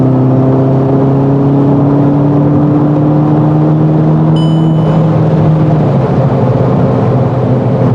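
A Volkswagen GTI engine revs and accelerates after exhaust removal, its throaty drone rising in pitch then settling into a loud steady rumble; no talking.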